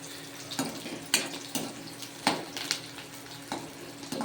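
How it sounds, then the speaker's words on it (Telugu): Onions frying for a Telugu curry, a soft background sizzle broken by sharp clinks and scrapes of stirring at irregular intervals, no speech. "ఆనియన్స్ అయితే బాగా ఫ్రై అవ్వాలండి"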